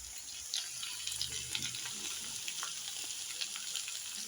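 Potato, carrot and capsicum sautéing in a pan with salt, a steady soft sizzle with faint stirring scrapes and light clinks running throughout, close and moderately quiet, with no talking.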